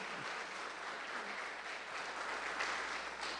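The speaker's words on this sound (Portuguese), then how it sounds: "E dê uma salva de palmas para o Senhor Jesus." A church congregation at a Friday service claps together in a steady, even wash of applause, faint and distant.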